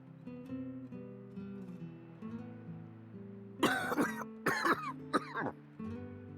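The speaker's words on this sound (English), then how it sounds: "Just a pesky little cough." A game character in Xenoblade Chronicles 2 coughs in several short, harsh bursts over soft background music, clustered together and fairly close.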